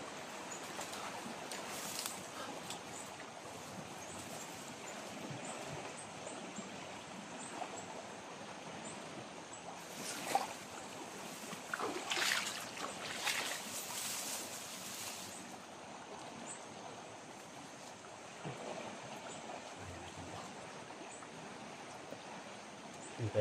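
Flooded Davao River rushing with a strong current, a steady broad watery roar that stays fairly faint and even throughout, with a few brief louder surges and no voices.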